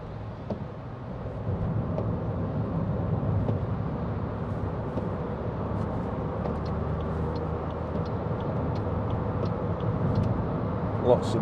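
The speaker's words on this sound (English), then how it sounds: "Lots of spray on the motorway today" Toyota Aygo 1.0 VVT-i hatchback from 2014 cruising on a wet motorway among lorries, with a steady loud broadband rush of tyre spray and road noise and a low engine drone throughout, no speech.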